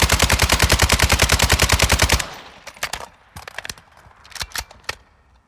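Rapid automatic gunfire from a weapon in Call of Duty: Modern Warfare II, a loud, evenly spaced burst of about two seconds. Scattered single shots and clatter follow at lower volume.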